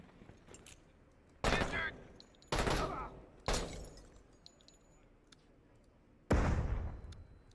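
Flashbang grenade and gunfire in the Door Kickers 2 tactical video game: four sharp, loud bangs spaced about a second apart, then a fifth after a pause, each with a short decaying tail.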